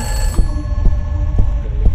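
A telephone ringing indoors, a short rhythmic ringing over a low throbbing hum with regular pulses about every half second, loud and close, no speech.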